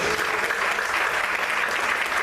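A church congregation claps steadily and loudly throughout, a dense, continuous wash of applause with no pauses.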